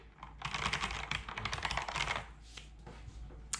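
Typing on a Kinesis Advantage360 split ergonomic keyboard, with rapid, close clicky keystrokes in dense bursts that thin out toward the end, heard alone without talk.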